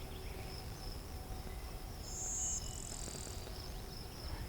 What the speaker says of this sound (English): It picked up blue-winged warbler.